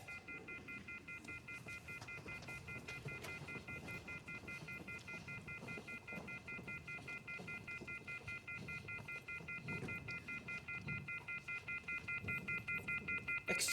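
A steady, faint telephone off-the-hook tone in a film setting holds as a continuous pulsing beep throughout, over a low background murmur.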